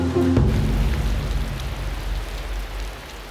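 Steady rain falls in a humid, overgrown maze of tidal channels between land and ocean, a continuous hiss with a low rumble and no break.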